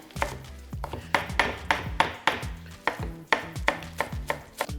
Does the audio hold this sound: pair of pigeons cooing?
no